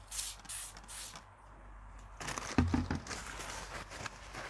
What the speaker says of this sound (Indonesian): Kita semprot RAC dulu.